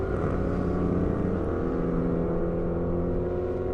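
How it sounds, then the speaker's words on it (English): Motorcycle engines rev loudly as the bikes pass by at an airstrip drag racing event, a sustained droning roar with shifting pitch that stays strong and close throughout, with no talking over it. "Always got to love it when the bikes have got to rev their motors right when they pass me"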